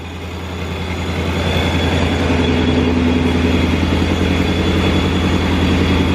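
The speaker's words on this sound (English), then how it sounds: "Car's warming up." A 2019 Mustang GT with a ProCharger P1X supercharger idles loud and close as it warms up, a steady, dense engine drone with a rough low rumble, alone and without talk.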